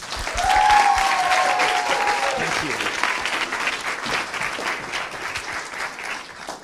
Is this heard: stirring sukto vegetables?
no